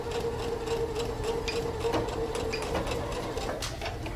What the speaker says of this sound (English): We're gonna continue sewing right to that folded edge and backstitch.